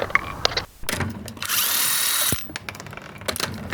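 A power tool spins off a 21mm wheel nut, a loud, sustained whirring burst lasting about a second between clunks and handling noises of the socket and tool.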